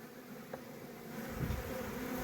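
Honey bees work at the hive during spring feeding ahead of the rapeseed bloom, a low continuous buzz that swells gradually, with a sharp knock at the very end.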